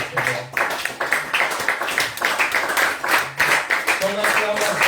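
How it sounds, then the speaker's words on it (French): A church congregation claps and cheers in praise of the Lord, rhythmic clapping with voices calling out over it, steady and fairly loud throughout. "Est-ce qu'on peut encore acclamer pour le Seigneur?"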